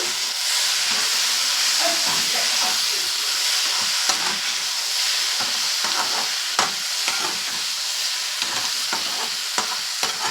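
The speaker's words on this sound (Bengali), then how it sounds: "দিয়ে ভালো করে আবার একটু কষিয়ে নেব।" Potatoes and tomatoes with cumin sizzle and fry in a pan, with steady loud hissing and scraping stirs throughout and no talking.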